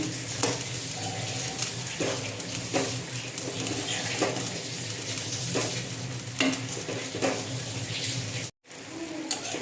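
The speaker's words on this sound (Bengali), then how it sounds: "আবার একটু নেড়ে চেড়ে দিচ্ছি।" Fried dheki shak (fern greens) is turned in a pan, with scraping strokes and gentle sizzling at close range and a brief break near the end.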